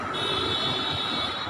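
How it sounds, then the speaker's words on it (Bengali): An elevated monorail train passes overhead in Bukit Bintang, Kuala Lumpur, with a continuous rushing rumble and a faint high whine, fairly loud and steady throughout the short stretch. "এই যে এটা উপর দিয়ে চলে ট্রেনেরা"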